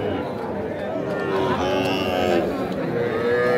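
Young calves, including crossbred bull and heifer calves, low at a crowded cattle market in Ambari, a few drawn-out moos rising over steady crowd noise and nearby talk.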